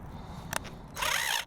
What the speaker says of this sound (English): this is a bad demonstration of drilling the holes